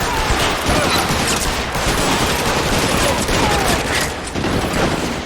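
Rapid gunfire in the video game L.A. Noire, a dense, continuous burst of shots running for several seconds at high volume.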